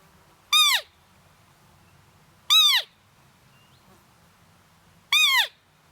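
A Nordik roe deer call blown to imitate an agitated doe, three loud, short, piping squeals with a descending bend, evenly spaced about two seconds apart over quiet background.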